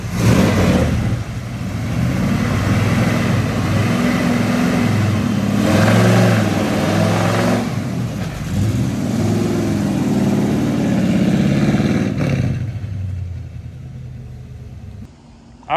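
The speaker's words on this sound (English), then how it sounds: "we swapped out the ignition box and she's running" A 1974 Plymouth Road Runner V8, just back running after an ignition box swap, rumbles loudly close by, revving up and down in a few swells before settling toward a lower idle, with no talking.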